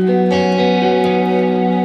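Clean electric guitar picking, with a little crunch and heavy reverb, rings out as sustained notes forming a lush wash, loud and close with no voice.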